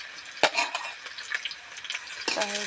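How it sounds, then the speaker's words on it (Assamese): Onions fry in hot oil in a pan, sizzling while a utensil stirs them with quick scraping clacks, loudest near the start and again toward the end. "প্ৰথমে পিঁয়াজটো লগাই লৈছোঁ।"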